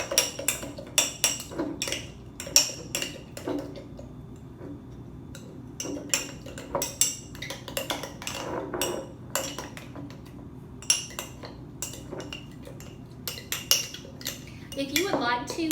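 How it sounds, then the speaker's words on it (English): A utensil stirs and scrapes a bouncy ball mixture inside a cup, giving irregular clinks and taps that come in bursts, close and fairly crisp, with quiet pauses between strokes. "And I'm going to stir this together."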